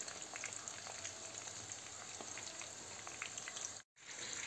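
Eggplant pieces frying in hot oil for karnıyarık, a steady, fairly quiet crackling sizzle with scattered pops, briefly cutting out near the end.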